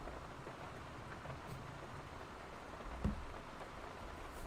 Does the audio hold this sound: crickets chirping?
no